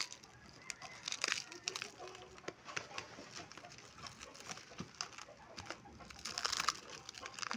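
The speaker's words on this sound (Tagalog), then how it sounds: "Pasensyahan nyo na yung mga manok guys sa background ko kasi dito sa amin guys maraming manok" Faint chicken clucks and short calls scattered through a quiet outdoor background, distant and irregular.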